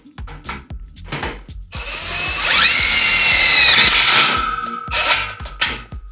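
A power drill with a 10 mm socket drives a self-drilling screw into metal drywall rail while a shower niche is built, giving a loud close whine for about two seconds, framed by clanks and taps before and after.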